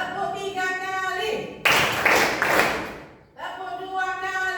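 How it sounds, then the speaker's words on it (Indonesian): Students in a seventh-grade classroom clap their hands together in a sharp, loud burst of roughly a second and a half, set between stretches of a teacher speaking. "Tepuk 3 kali."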